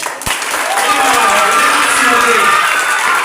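Loud, dense applause from an audience at a school competition final, starting after a brief thump and swelling into sustained clapping with some cheering.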